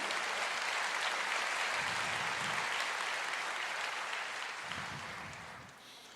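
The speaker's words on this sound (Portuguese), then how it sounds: "Pode aplaudir." A church congregation applauds through a sermon, a dense, steady wash of clapping that holds loud and then gradually fades toward the end.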